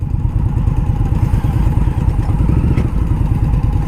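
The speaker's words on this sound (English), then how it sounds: "the exhaust. Ooh, it sounds pretty nice, and it's not obnoxious" A 2018 Indian Scout Bobber ABS motorcycle rumbles steadily while riding, its exhaust giving a loud, close, even low throb with light mechanical clatter.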